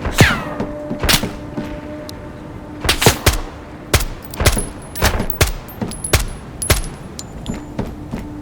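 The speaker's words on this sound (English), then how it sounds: "Still being shot at from somewhere else." Gunfire aimed at the player in a video game set in Terminal, the final map of RTV: a long run of loud, sharp shots in irregular bursts and single cracks, some near and some more distant, with no talking.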